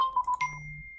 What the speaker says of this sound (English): Oops, that's my phone.